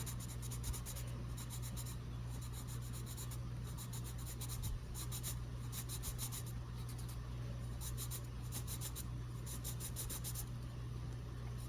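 A 1986 Berol Prismacolor colored pencil shading on paper, making soft, continuous scratchy strokes in short repeated bursts over a steady low background hum.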